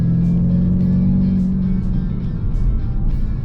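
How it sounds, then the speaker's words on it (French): Jaguar S-Type R, a supercharged 400 hp sedan, driving with a steady, loud engine drone and exhaust note that holds a sustained low hum and continues throughout without speech. "Je trouve que l'échappement est pas trop. Il est là, mais il est pas trop non plus envahissant."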